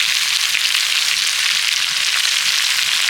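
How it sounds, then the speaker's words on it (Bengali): Chopped amla fries with salt, turmeric and chili powder as a pickle base, making a loud, steady, close hiss of sizzling oil with faint crackle and no speech. "আবারও ভালো করে নেড়ে চেড়ে একটু কষিয়ে নেব"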